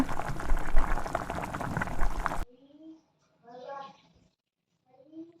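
Okra dropped into hot oil for a crispy lady's finger fry bubbles and sizzles loudly and steadily for a couple of seconds, then cuts off, followed by quiet with a few short voice sounds.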